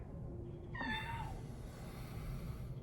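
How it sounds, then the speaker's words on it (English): A single cat meow, fairly faint, rising and falling once over a low background hum. "That's my cat."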